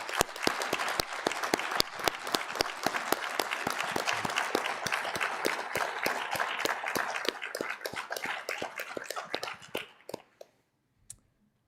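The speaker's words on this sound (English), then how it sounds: "Please join our National Honor Society members in a round of applause for the latest members of the Hudson Falls Wall of" An audience at a high school National Honor Society induction gives a sustained round of applause for new Wall of Distinction members, with dense clapping that holds steady for about ten seconds and then tapers off to silence.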